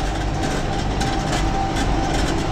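A Kubota 60-inch diesel mower tractor runs hard under load, a loud, steady, close rumbling drone with a dense mechanical clatter and no pauses or talk.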